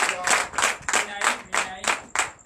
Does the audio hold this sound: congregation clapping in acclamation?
yes